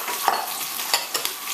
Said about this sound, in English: I'm just sauteing all of that together in the big pot